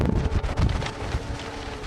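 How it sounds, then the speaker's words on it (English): Strong wind of roughly 70 to 80 miles an hour blowing on a trail, loud continuous roaring gusts battering the microphone with rustling texture throughout and no speech. "The wind's going about 80 to 70 some miles an hour"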